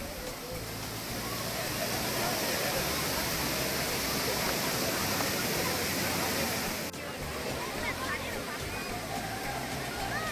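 Thripparappu Waterfalls near Kanyakumari roar with a steady, loud, dense rush of falling water, continuous throughout with a faint murmur of crowd voices underneath.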